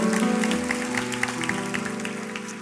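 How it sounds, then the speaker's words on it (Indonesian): A church congregation applauding in a sustained burst of clapping, with sustained musical tones beneath it and no talking. "Berikan tepuk tangan bagi Tuhan Yesus."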